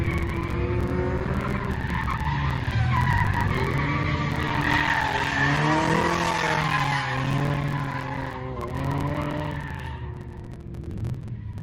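Tires squeal loudly and keep wavering as a car with a locking differential skids under braking at a track day, with the engine note rising and falling beneath, close by and alone.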